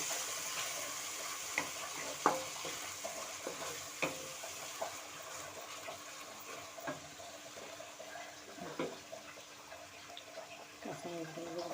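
Spices frying in oil in a pan while being stirred during preparation of a lightly spiced roast, a soft continuous sizzle broken by scattered scraping clicks of the spoon against the pan, fairly quiet and close, with no talking.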